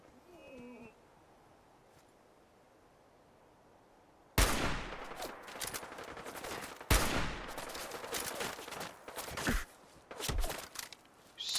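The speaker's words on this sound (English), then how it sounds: "Somebody is shooting me, and from where?" Enemy gunfire in Fallout 4 erupts after a quiet stretch, with loud bursts of rapid shots and sharp cracks layered over one another, continuing in clusters to the end.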